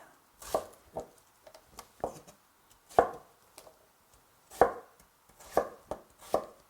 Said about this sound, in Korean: 자, 이렇게 썰어주세요.